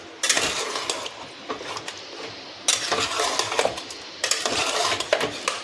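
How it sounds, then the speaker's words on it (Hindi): Chicken masala with yogurt being stirred in a pot over a low flame; a spoon clatters and scrapes against the metal in three bursts of busy clinking, with quieter scraping between them. "अब इसको जल्दी से स्लो आंच कर दीजिएगा और मिक्स कर दीजिएगा"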